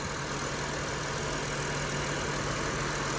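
A Honda Accord's 3-liter V6 engine idles steadily at an auction, a constant low mechanical hum with a faint hum line, continuous and unchanging with no talking.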